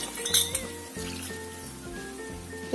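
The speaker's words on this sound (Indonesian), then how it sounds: "Ini kita aduk dulu." A utensil stirs thick coconut milk sauce for salem fish with basil leaves in a cooking pot, light metallic clinks and scrapes near the start followed by a soft, continuous simmering hiss.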